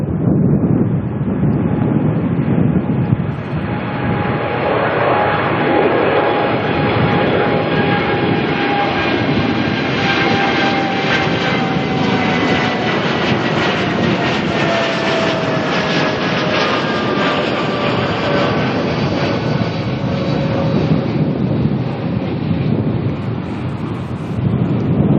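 A Qantas airliner rolls out at Auckland Airport, its engines holding a sustained loud roar with rumbling low end and several high whining tones that slowly descend in pitch as it passes.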